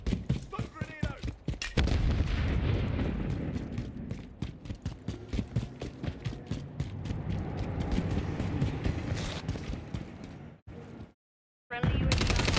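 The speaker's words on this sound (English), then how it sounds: "Stun grenade out." A stun grenade and rapid gunfire in a Call of Duty MWIII multiplayer match set in Tokyo: dense, continuous volleys of shots crack close and loud, then break into a sudden brief silence before resuming.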